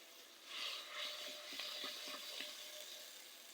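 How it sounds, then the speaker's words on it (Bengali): Spice paste of chili powder and ground garam masala fries in a pan for mung dal, a soft sizzle with faint stirring scrapes, quiet and close. "মশলাটা ভালো করে কষিয়ে নেব।"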